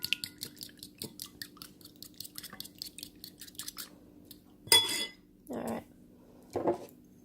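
A fork taps and clicks quickly against a bowl while French toast batter is mixed with a dab of milk; the soft, rapid tapping is followed by brief talk.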